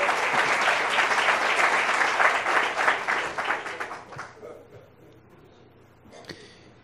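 Lecture audience applauding a volunteer, dense loud clapping for about four seconds that thins out and fades, with a brief scattered clap near the end.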